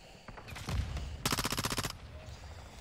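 A rapid automatic burst of gunfire in Call of Duty: Modern Warfare 2 (2022), about a dozen evenly spaced shots in under a second, loud and close, with single shots just before.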